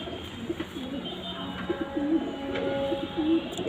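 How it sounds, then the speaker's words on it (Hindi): Wild pigeon, a female, coos in a soft, low, repeated rhythm, the rounded calls rising and falling close by over a steady background hum. "बिल्कुल जंगली कबूतर है।"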